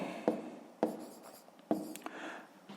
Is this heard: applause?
no